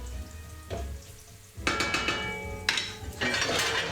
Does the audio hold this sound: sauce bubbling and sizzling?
yes